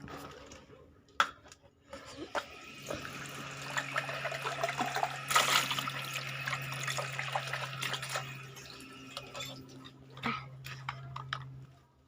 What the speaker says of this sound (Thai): ได้ล้างแก้วก่อนเพื่อความสะอาด